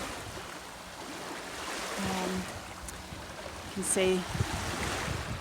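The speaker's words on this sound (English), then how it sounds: "the water just coming in" Surf washing in at the foot of the cliffs at Cerberus, Black Rock, a steady broadband wash of breaking water with a brief swell near the end, while someone talks over it.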